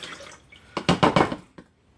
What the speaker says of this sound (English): I pour that can into this can